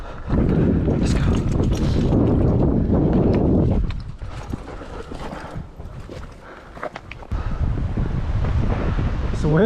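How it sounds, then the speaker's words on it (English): Wind gusts outdoors on high ground, buffeting the microphone in heavy low rumbles that ease midway and then pick up again, with rustling and footsteps underneath. "It's windy."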